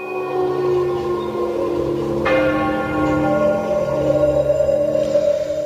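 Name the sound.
distant church bells tolling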